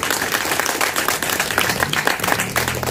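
Sustained applause from an audience at a women's yoga camp in Sangli, steady dense clapping throughout at a fairly loud level, with no talk over it.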